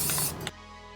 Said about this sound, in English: So good misting spray.